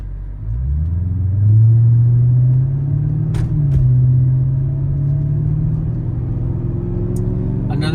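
A 1995 BMW 840ci E31 rumbles steadily from inside the cabin while driving, its low engine drone rising slightly and holding even, with a couple of brief clicks along the way.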